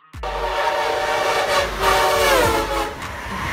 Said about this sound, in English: This is a train that carries passengers between large cities, usually traveling at medium speed over long distances.